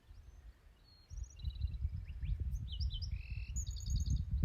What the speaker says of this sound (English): Man, that bird is singing its heart away.